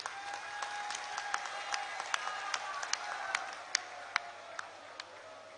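An audience claps at a Punjab chief minister's political speech, a sustained wash of applause with sharp individual claps standing out, steady and moderately loud, no speech over it.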